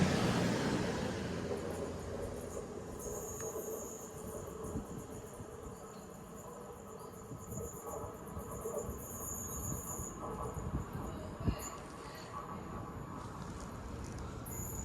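Train 220031 rolling through Cheadle Hulme station: a low, rumbling pass with rhythmic wheel noise and high, thin squealing tones, fairly distant and steady, with a brief sharp clunk late on.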